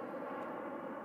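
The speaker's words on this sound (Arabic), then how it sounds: "شفت وكان طيارة تمك هاي هابطة في اوكلاند انترناشونال ايربورت" Airplane descending to land at Oakland International Airport, heard as a steady broadband engine roar at moderate distance, continuous and even throughout with no voices.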